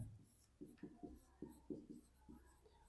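A pen writing a table on paper, heard as a series of soft scratchy strokes and taps in an irregular rhythm, close and quiet.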